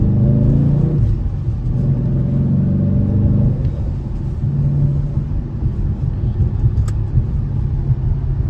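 Dodge Challenger T/A with a 5.7 V8 Hemi and manual gearbox accelerating in second gear, a deep rumbling engine note heard from inside the car, rising then dropping as the gear shift comes and the revs settle.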